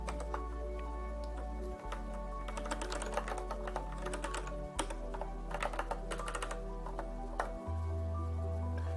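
Keys clatter steadily on a computer keyboard as a keyboard shortcut is entered to create a new note in the Obsidian app, close and fairly busy over a low steady hum.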